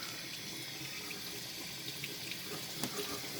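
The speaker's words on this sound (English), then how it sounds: "And that's flushing the block now." Water from a hose rushes steadily through the engine block of a Mazda RX7 FC during a coolant flush, a constant, fairly faint hiss with a small splash near the end.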